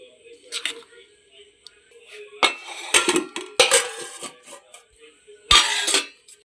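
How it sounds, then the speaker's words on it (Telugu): Idli batter made with jowar and rava flour being mixed in a bowl, with scattered clinks and scrapes of utensil against the bowl in short bursts, fairly close. "ఇప్పుడు ఇది బాగా మిక్స్ చేసుకోవాలి."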